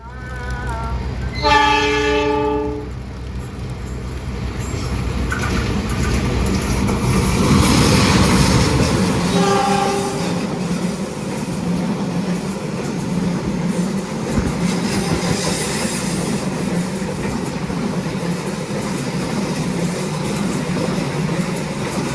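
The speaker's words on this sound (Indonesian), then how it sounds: "kereta api Papandayan mulai meninggalkan stasiun Leles" A passenger train's horn sounds in a short series of blasts at Leles station, Indonesia, then the rumble and clatter of rail cars builds and continues steadily as the train pulls away.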